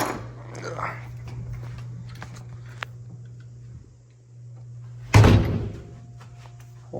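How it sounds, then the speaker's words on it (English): A hotel room door is opened, a sharp latch click and thud near the end over a steady low hum of room machinery, with people talking earlier in the scene. "Let me open the door, okay?"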